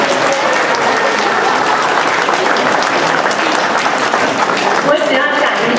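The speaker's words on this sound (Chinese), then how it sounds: "所以我们大家鼓掌，谢谢安芳老师" An audience at a 20th-anniversary community performance evening in Atlanta bursts into loud, sustained applause. The clapping is dense and continuous and fills the hall throughout.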